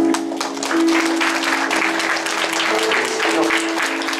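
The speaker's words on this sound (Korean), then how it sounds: "축하의 박수로 하도록 하겠습니다" A church congregation applauds course graduates at a spirituality school completion ceremony, with loud sustained clapping from a large crowd over a faint steady hum and brief voices under it.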